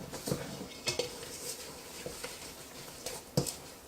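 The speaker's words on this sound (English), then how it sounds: "So I just keep stirring until I don't see those clumps of lemon zest any longer" A spoon stirs poppy seeds and lemon zest into muffin batter in a bowl, giving soft scraping with occasional light knocks against the bowl, close by but fairly quiet.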